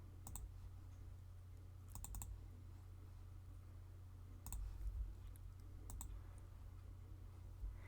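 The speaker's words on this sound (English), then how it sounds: "And then we'll double click the Open Image button." Computer mouse clicking during photo editing, heard as a few sharp double clicks spaced several seconds apart over a low steady hum in a quiet room.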